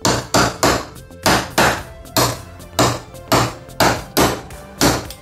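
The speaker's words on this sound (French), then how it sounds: "On va le chasser avec une douille." A socket is hammered against a seal to drive it into the steering rack of a Porsche 944, making about a dozen loud, evenly spaced metallic blows with ringing decay, close up and without talking.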